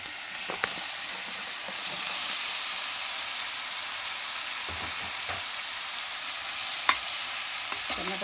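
Tomatoes go into a pan of softened onions and are stirred, setting off a constant close sizzle and steamy hiss with a few sharp clinks and scrapes of the spoon against the pan, without talk.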